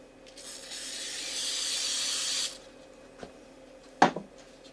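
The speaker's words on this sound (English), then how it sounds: "Now that spray glue's working, let's spray some on." A steady hiss of spray glue from an aerosol can sprays for about two seconds, then stops, followed by a couple of light taps and a sharper knock, while making a bandsaw box.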